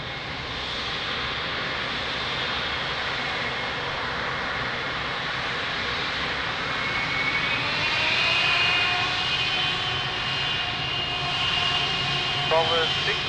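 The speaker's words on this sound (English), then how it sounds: "Nice, beautiful C-130, Portuguese Air Force." A Portuguese Air Force C-130 at Lisbon Airport drones with a steady, loud turboprop engine roar and whine throughout, sustained and close, with a faint radio voice underneath.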